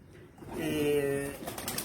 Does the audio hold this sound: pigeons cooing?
yes